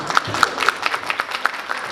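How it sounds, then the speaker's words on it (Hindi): A small audience at a literary event at the 2016 World Book Fair in New Delhi gives a short round of applause, scattered claps with a few sharper individual hands standing out. "आपकी तालियां,"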